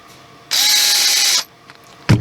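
A hinge screw is driven back into an Andis five-speed hair clipper, giving one steady, close whirring ratchet-like burst about a second long, then a brief sharp click near the end.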